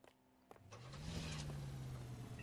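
A car in L.A. Noire starts up, beginning with a few clicks and thumps before the engine catches and rises into a steady, rising hum as it pulls away, fairly quiet throughout.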